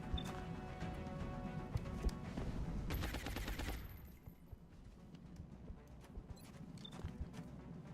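Bursts of gunfire ring out in the turn-based strategy game XCOM Long War, with a dense rattling volley in the middle and scattered sharper shots around it, all fairly quiet.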